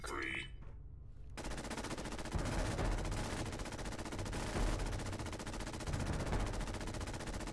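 Enemy machine gun fire in Fallout 76, a long unbroken rattle of rapid shots at a fairly distant, moderate level, steady and continuous after a short quiet opening.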